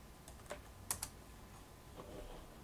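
A short command typed on a computer keyboard in a Linux terminal, a few faint, close key clicks in quick succession with soft taps afterward, no voice.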